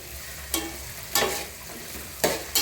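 Ingredients for a Thirukkai fish curry sautéing in a pan, with a few sharp scraping stirs and brief sizzling bursts recurring irregularly over a low kitchen background, close and moderately loud, no talk.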